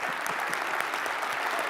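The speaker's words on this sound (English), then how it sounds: "I think we owe a tremendous round of applause and acknowledgement for our leader this year, Mr. Tim Zimmerman" Audience applause for ICBA chairman Tim Zimmerman at a fireside chat event, steady dense clapping from a crowd, moderately loud and continuous throughout with no talking over it.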